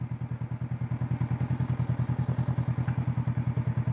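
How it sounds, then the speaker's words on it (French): A Honda CB500F motorcycle engine pulses close by with a fast, even, throbbing beat that stays steady throughout the few seconds, with no voices over it. "on va se faire un petit test là, 0 à 100 km/h avec la Honda"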